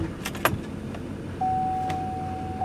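Inside a dad's pickup truck parked during a house move: keys jangle and a door or window mechanism clicks, then a steady electronic chime tone sounds alone for over a second, with no talking.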